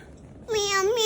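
A voices a single drawn-out meow in imitation of a cat, loud and close, after a brief quiet moment.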